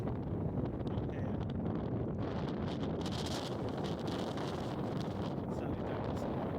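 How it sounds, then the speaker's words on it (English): Steady wind buffeting the microphone on a hillside stretch of the Great Glen Way above Loch Ness, a loud, continuous low roar with gusty rustle lasting throughout. "It's probably a bit windy to talk"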